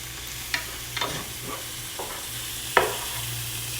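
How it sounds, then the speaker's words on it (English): Mushrooms sizzle in a skillet under a steady hiss while a utensil scrapes and stirs them in a few separate strokes, close by, with no speech. "Then I'm going to stir those in really nice."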